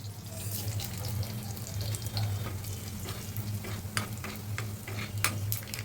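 Garlic, chana dal, urad dal, mustard seeds and cumin fry in hot oil for a tempering. A steady sizzle runs throughout with a low hum beneath, and sharp scraping stirs and clinks break in now and then.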